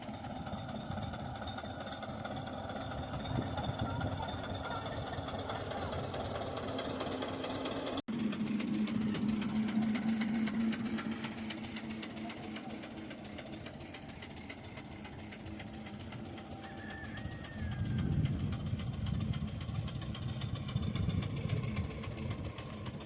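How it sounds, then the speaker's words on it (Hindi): An HMT tractor engine runs steadily while towing a car, a continuous mid-pitched chug and rumble that swells louder near the end. "भाई ट्रैक्टर कार को इतनी दूर खींच के लेके चला गया।"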